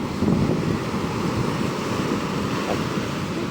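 Sea waves breaking on the shore at a beach in Diu, heard as a steady, continuous surf roar mixed with wind buffeting the microphone, with no talk.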